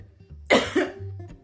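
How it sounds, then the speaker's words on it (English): A single sharp, rough cough bursts out close by, followed by a brief second catch, against a faint low background hum. "That cough."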